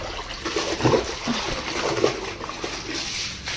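Water sloshes and splashes in bursts against a hard floor being mopped, with soft trickling between the splashes.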